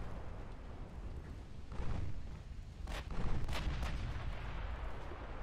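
Heavy cruiser main guns fire in the naval strategy game Ultimate Admiral Dreadnoughts, several booming blasts around the middle and later in the clip over a constant rumbling battle background, no voices.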